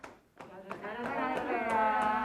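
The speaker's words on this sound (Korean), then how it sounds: "박수" Short applause from members of an exercise class, a few separate claps quickly swelling into steady clapping under a voice.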